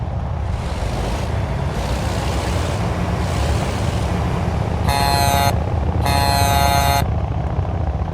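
Two loud generic truck horn blasts sound in succession, the second longer, over a constant low engine drone.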